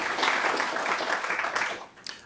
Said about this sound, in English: So you can all give them a round of applause.